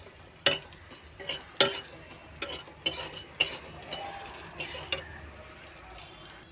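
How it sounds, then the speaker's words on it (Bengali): Lentil dumplings (bori) frying in a pan for a fish curry give a soft sizzle, broken by sharp scraping knocks of a spatula stirring at an uneven pace, quiet and close. "একটু বড়ি ভাজছি"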